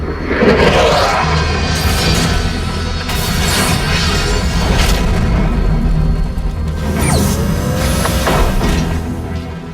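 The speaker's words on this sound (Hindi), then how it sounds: "क्या ब्लास्ट करना जरूरी था सर?" A loud, continuous rumbling roar of explosions with repeated booming bursts and crashing debris, sustained throughout with no talking.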